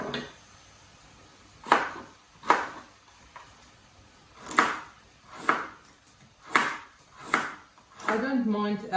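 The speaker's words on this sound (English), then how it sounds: "I like to chop it up in little slices, halve it" Carrots sliced for miso soup with a knife on a cutting board, six or seven distinct sharp chops spaced unevenly a second or so apart, close and clear, followed by a brief scraping clatter.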